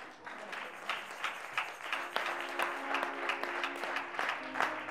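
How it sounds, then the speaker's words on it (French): Applause and cheering from a congregation at a church worship service, with steady clapping and a few louder bursts carried under sustained tones from music or voices in the hall. "Les acclamations étaient trop courtes."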